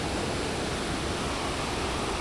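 Waterfall in the Bada Valley on Sulawesi, Indonesia, heard as a loud, steady, broadband rush of falling water, continuous and close, with no talk over it.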